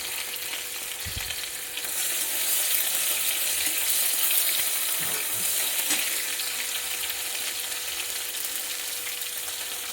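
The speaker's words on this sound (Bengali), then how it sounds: "টমেটো ভাজা যতক্ষণে হচ্ছে" Tomatoes dropped into hot oil with cumin seeds sizzle in a steady, close frying hiss that swells after a soft clatter and holds loud through the rest, with faint stirring scrapes.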